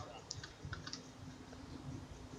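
A computer keyboard clicks faintly in short, irregular bursts of light key taps under a steady background hum.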